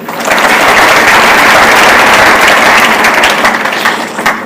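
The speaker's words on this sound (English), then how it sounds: "I want you to clap for Aisha Jomo." A crowd applauds loudly and steadily for several seconds, a dense wash of clapping that tapers slightly near the end.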